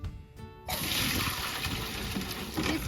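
A well-house water pump kicks on abruptly after a brief lull, then settles into a steady, close rushing hiss that carries on without letting up.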